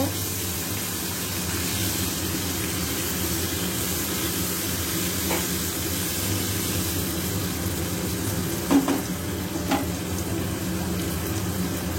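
Potatoes frying in a pan with salt and turmeric give a steady, continuous sizzle that holds at an even level throughout, with a couple of faint clinks near the end.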